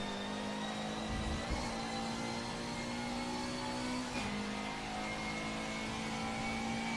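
A race car engine in a racing video game on a track guide lap holds a steady, continuous high drone with a smooth pitch glide as the car accelerates, loud and alone with no talking.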